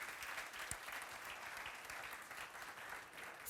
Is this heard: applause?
yes